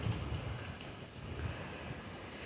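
Strong wind and rough waves wash over floodwater on a ranch after a heavy downpour, a steady close rushing roar with low gusty buffeting against the microphone and no talking.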